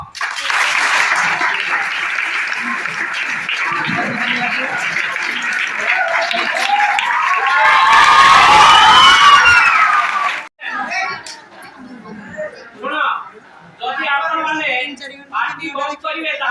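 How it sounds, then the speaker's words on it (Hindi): Clapping and applause from a school audience at a high school magic show: sustained loud clapping with children shouting and cheering that swells to a peak, then breaks off into scattered voices and talk. "रेडी 1 2 3 के ताली दबो"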